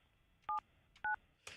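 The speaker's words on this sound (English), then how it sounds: "I'm calling Lee's attorney, this Adam dude" Two distinct telephone keypad tones sound in quick succession while a cell phone number is dialed, each a short steady beep, followed by a brief burst of noise.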